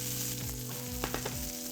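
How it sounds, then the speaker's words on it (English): Burger buns toasting on a hot griddle give a steady, close sizzle and crackle that runs throughout, with a few brief clicks and scrapes on top and no voices. "I'm going to toast my burger buns to give it a nice, beautiful crust on the inside."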